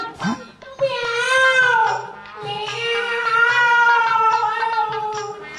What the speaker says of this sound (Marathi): मांजराचा आवाज जरा वेगळा वाटतोय.